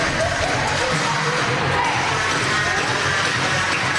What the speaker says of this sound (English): Good crowd here.